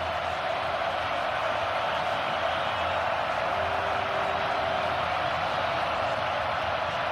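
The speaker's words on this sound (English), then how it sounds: "this tech crowd is loud right now" A Virginia Tech football stadium crowd roars in a loud, steady wash of noise that holds without letup throughout.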